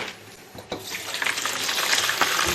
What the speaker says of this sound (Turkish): Bu buzun içerisine şimdi su koyacağız.